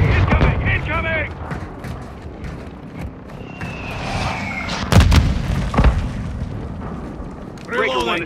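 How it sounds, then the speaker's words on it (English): Incoming mortar fire in Call of Duty: Modern Warfare 2, with several heavy booming impacts and sharp blasts landing close, mixed with radio chatter and shouted voices. "Mortars, south side. Incoming!"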